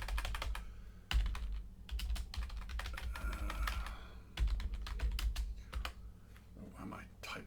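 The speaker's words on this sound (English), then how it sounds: "Why am I typing wrong?" Rapid typing on a computer keyboard, close and clear, in quick bursts of key clicks over a low background hum, with a voice briefly talking.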